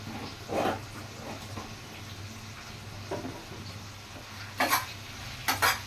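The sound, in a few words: vegetables sautéing and stirring in oil in a pan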